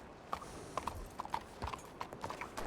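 Horse hooves clip-clop at a slow walking pace, a string of sharp knocks spread unevenly over a few seconds, moderately near and fairly faint against a quiet background with no talk.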